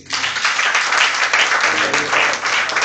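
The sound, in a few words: loud applause in church service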